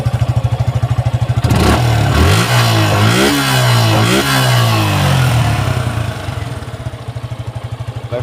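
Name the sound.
Suzuki Gixxer SF Fi ABS motorcycle engine revving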